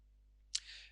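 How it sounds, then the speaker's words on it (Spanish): A single short, crisp computer mouse click presses the Next button in VMware Workstation while a virtual machine is being set up. It sounds close and isolated against a quiet background hum. "hacemos clic en el botón siguiente"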